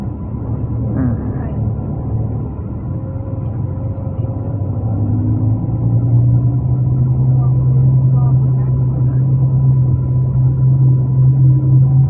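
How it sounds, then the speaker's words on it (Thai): Heavy, congested traffic rolls along Vibhavadi Rangsit Road in Bangkok's Don Mueang district, a steady low rumble of many engines that grows slightly louder and denser over time, with no nearby voices. "รถเยอะมากเลยครับผม ช่วงเวลานี้เป็นช่วงที่ รถจัดเบียดแล้วก็แออัดกันมากนะครับผม"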